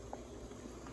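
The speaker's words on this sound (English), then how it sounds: "we've got the pot boiling, and let's add the spinach." Pot of water at a rolling boil for blanching spinach, a steady close bubbling hiss with soft pops, heard alone and fairly quiet.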